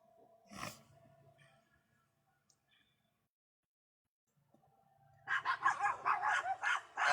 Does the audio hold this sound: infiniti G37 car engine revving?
no